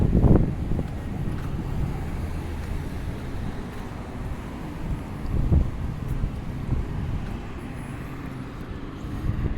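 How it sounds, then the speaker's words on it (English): Wind buffets a foam-covered microphone outdoors on a walk by a city street near a public garden, a steady low rumble with gusty swells that lasts the whole stretch and covers any other sound. "Maybe my own body can shield the foam from wind"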